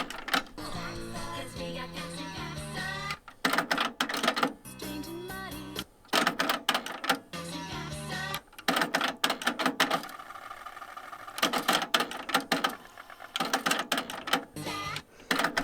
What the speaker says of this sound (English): By that sound there, I can tell it's fast forwarding, rewinding properly